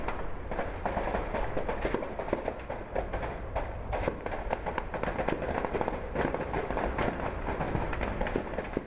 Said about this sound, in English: Gunfire and explosions, signalling the storming of the printing works